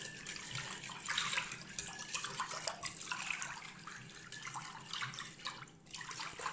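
A whisk beats a seasoned sauce with chili flakes and salt in a deep bowl for oven-baked chicken drumsticks with potatoes, giving quick wet sloshing bursts that come in waves, close and fairly quiet with no speech.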